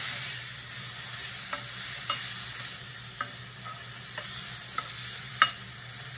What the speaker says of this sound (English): we're just gonna saute the zucchini and the carrots and broccoli a little bit